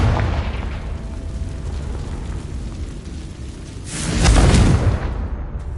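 A Confringo fire spell bursts in Hogwarts Legacy gameplay, a deep rumbling blast swelling near the end over a constant low game ambience, loud and close.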